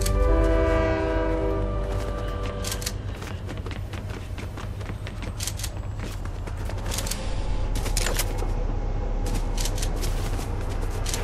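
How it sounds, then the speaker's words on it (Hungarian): Train rumbling past with a loud horn blast at the start in the video game Warzone, mixed with sharp gunfire cracks and game noise throughout. "Még vonat is van."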